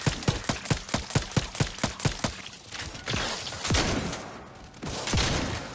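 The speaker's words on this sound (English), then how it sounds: "Nothing like a shotgun to take these Shazmeisters out" Shotgun blasts in The Outer Worlds 2 come as a rapid, evenly spaced string of about a dozen sharp reports, followed by heavier, rumbling bursts and impacts, loud and close.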